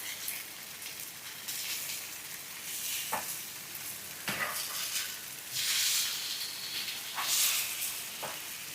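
Fish, softer than mackerel, sizzles and spatters in a pan at a steady crackling hiss, with a few sharper pops and scrapes standing out and no voices.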